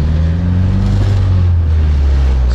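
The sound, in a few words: boosted LSVTEC Honda Ferio engine revving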